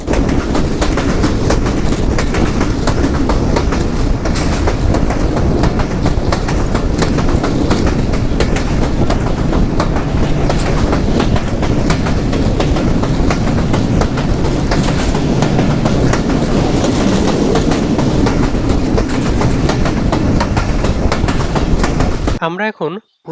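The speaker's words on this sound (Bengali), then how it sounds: "প্রবেশ করছি রূপদিয়া রেলওয়ে স্টেশনে" A passenger train rolls steadily along the rails as it enters Rupdia railway station in Bangladesh, a loud continuous rumble with rhythmic clatter, easing off abruptly at the very end.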